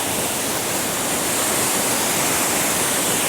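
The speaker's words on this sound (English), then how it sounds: "Sounds like there's another waterfall through here." A waterfall at Thirlmere in the Lake District, a steady broadband rush of falling water, fairly close and unbroken, with no voices.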